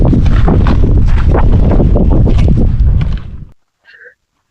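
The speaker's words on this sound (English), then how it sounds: "It's getting a little breezy up here" Gusty breeze buffeting the microphone high on a mountain hiking trail over decomposed granite, a loud continuous roar for about three and a half seconds that cuts off abruptly, followed by a faint brief noise.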